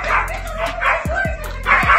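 A dog barks and yips repeatedly in quick bursts, fairly loud and close, with some high whimpering tones between the barks and no clear talk.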